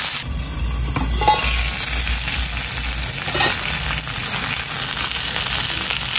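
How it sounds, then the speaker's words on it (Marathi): Pomfret fish fries in a pan, turned to cook its second side, producing a steady, dense sizzle with occasional stirring and scraping sounds, close and continuous with no one talking. "आता त्याला दुसऱ्या साईडने 5 मिनिटं करूया फ्राय."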